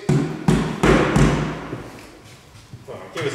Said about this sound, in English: Could you bang on one of the doors?